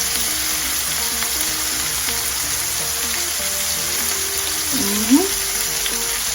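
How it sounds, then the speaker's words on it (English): Small pieces of shrimp and fish fry in a pan for a pasta dish, giving a steady, even sizzle throughout. A brief scrape or clink stands out near the end. "the fish is curling, which means it's being cooked, because these are little pieces."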